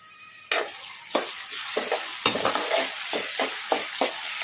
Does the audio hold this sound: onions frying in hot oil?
yes